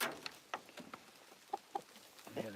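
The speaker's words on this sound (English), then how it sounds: "You can see the rooster because he's white. You can hear him." A white rooster and chickens settling in a coop at night give soft intermittent clucks and short calls, quiet and close, with light rustling between them.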